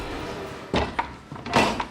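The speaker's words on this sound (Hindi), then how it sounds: "दरवाजा बंद करो" A door is shoved shut in a tense hostage scene, giving a couple of hard thuds and a rattling slam in quick succession, close and fairly loud.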